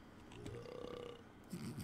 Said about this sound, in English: I'm burping loud.